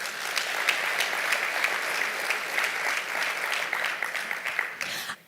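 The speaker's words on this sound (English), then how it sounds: "they do deserve a round of applause" Steady round of audience applause at a business investment conference in the Eastern Cape, dense clapping from a seated crowd sustained evenly for several seconds, then tapering off at the end.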